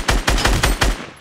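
Rapid gunfire in the battle royale game Fortnite: five loud, evenly spaced shots in quick succession, each a sharp crack with a booming low end, with no voices over them.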